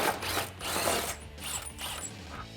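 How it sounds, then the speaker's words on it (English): An 18 mm socket on a ratchet turning out a rear body bolt on a 2002-2008 RAM 1500 pickup during a side step bar install, several short bursts of rapid ratchet clicking, close and fairly quiet, with no speech. "We're gonna use our 18 millimeter socket to get the body bolt out."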